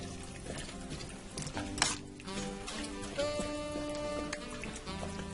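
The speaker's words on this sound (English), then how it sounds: "Let me stir that all in." A spoon scrapes and clinks against a pot of hamburger cabbage stew while it is stirred, with soft metallic taps and wet sloshing, close and fairly quiet, and a brief sharper knock partway through.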